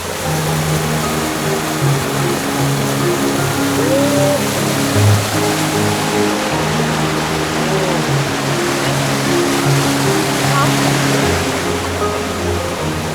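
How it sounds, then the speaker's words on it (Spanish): Mountain stream water murmurs along a trail from Capileira toward the Poqueira refuge in the Sierra Nevada, a steady, close rushing wash that stays even and unbroken throughout. "Es un recorrido para dejarse llevar por el murmullo del agua"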